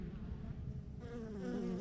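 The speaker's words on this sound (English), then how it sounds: "These are my Douglasville bees waking up very slowly." Bees at the tiny entrance of a small hive, slow to stir on a cool day; a faint, close, continuous buzzing hum that swells slightly toward the end, with no voices.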